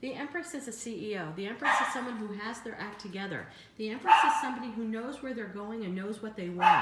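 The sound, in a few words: dogs barking in the background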